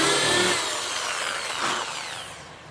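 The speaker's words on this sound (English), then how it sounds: "And just quickly drilling the plug." A power drill with a plug hole cutter bores a wooden plug while a tiny house floor is being installed, a loud close whine that begins hard, then eases and drops in pitch as the cut slows over a few seconds.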